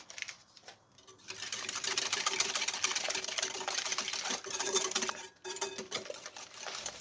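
An electric kitchen mixer whirs steadily while sugar and vanilla are mixed for a cake batter, a close, continuous buzzing hum that dips briefly partway through and then carries on.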